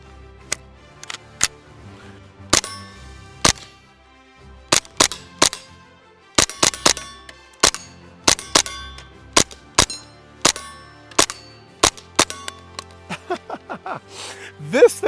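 Suppressed HK MP5 rifle chambered in .22 fires about twenty sharp, fairly quiet cracks in uneven bursts, some shots singly and some in quick pairs, close by with no talk.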